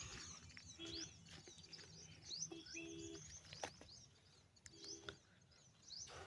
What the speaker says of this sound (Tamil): இந்த பறவைகளோட சத்தம் காது